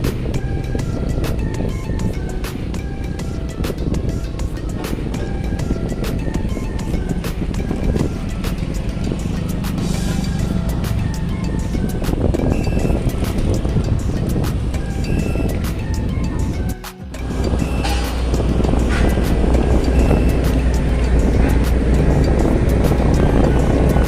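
Heavy trucks hauling soil rumble continuously at a toll road construction site in Parung Panjang, Bogor, a loud, dense low-pitched engine drone with a brief dip before the roar resumes.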